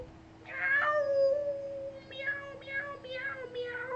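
A person imitates a cat, voicing a drawn-out meow followed by a quick string of shorter meows over a steady low hum, close and clear.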